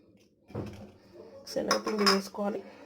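Metal utensils clink and scrape against a bowl of gram flour in a few quick bursts, close by, with brief quiet moments between, while preparing onion pakoda batter.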